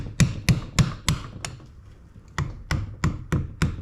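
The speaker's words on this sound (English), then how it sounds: "Take a flat screwdriver, and I always use a little hammer." A small hammer strikes a flat screwdriver against a C-clip on a Jeep JKU axle U-joint: sharp metallic taps ring out in two quick series, about a third of a second apart, with a short pause between them, close and fairly loud.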